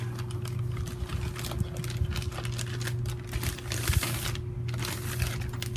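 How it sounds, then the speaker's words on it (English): Plastic bag from a Steam Deck unboxing being sealed, giving continuous close crinkling and crackling over a steady low hum, with no voices. "Alright, so I guess we will seal the plastic bag"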